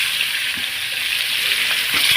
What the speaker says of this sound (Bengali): এইভাবে ভাজলে মাছটা ভালো বেশি সুন্দর হয়